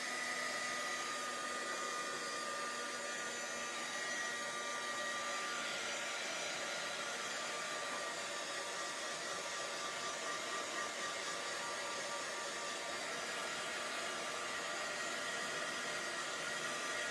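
A hair dryer blows steadily and continuously, drying something at home; a constant airy whir at a moderate, even level from start to finish, with no voices.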